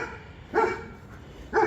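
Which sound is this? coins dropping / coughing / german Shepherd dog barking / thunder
german Shepherd dog barking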